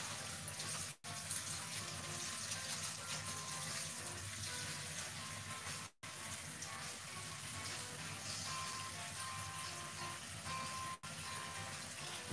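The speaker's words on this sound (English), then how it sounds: "I'm running that in cold water." Cold water runs steadily from a kitchen tap while vegetables are washed underneath, a constant close hiss and splash broken only by a couple of brief cutoffs; no speech.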